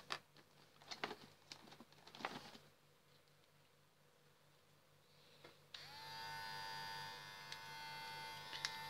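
A Codos 950 electric hair clipper starts up after a few seconds of quiet handling noises and then runs with a steady, close, smooth buzzing hum.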